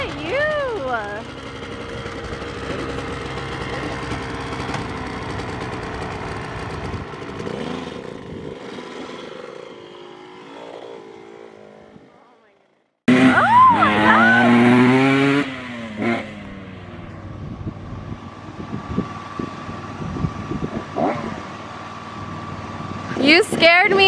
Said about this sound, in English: We picked up David's old dirt bike